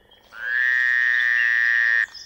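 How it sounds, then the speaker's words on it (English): A single drawn-out, steady buzzing croak from a frog, loud and close, sustained for over a second and a half before stopping abruptly. "Croaking really is the most beautiful sound in all the world"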